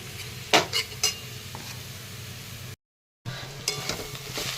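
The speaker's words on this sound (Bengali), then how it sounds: "আমরা পেঁয়াজ রসুন দিয়ে ভাজা করে নিচ্ছি" Mixed greens fry with onion and garlic in a pan, a few clanking stirs of a spatula over a soft continuous sizzle, broken by a brief silent gap before more stirring.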